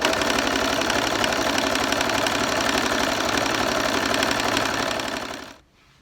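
A home sewing machine runs steadily as it stitches a crib sheet trim at its default stitch setting, a dense, rapid mechanical whir with fast needle clatter that holds at constant speed for several seconds, then winds down and stops.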